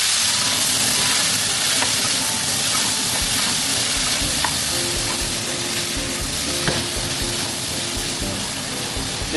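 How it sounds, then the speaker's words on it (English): Pork stew with cooking wine stirred in a pan, a steady broadband sizzle and steam hiss with faint spatula scrapes throughout, close and continuous with no talk. "Just to give a little stir. Make sure it's heated evenly."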